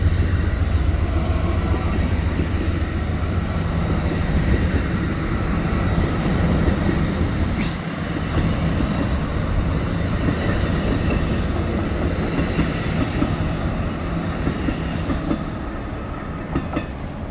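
Amtrak's Southwest Chief passenger train runs on track 3 in Cajon Pass, giving a loud, continuous rumble with rhythmic wheel clatter and occasional squeals as the cars roll steadily past, with no voices.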